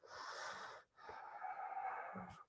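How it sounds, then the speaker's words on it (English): Two soft, breathy sniffs through a fabric face mask held over the nose and mouth, close and quiet, separated by a brief pause. "maybe giving it a nice sniff,"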